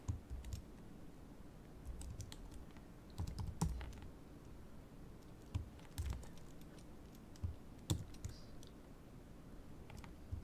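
Quiet typing on a computer keyboard, with irregular clusters of soft key clicks and occasional sharper taps spread across the stretch, no talking.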